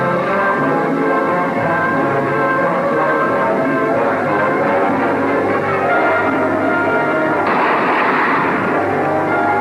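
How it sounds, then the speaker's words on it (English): Movie-scene gunfire fills the whole stretch, a dense, continuous roar of shots and bullet impacts at steady high loudness with no pauses, from a 1986 Halloween TV special. "Those bullets bounce off like baby shot on a stone wall."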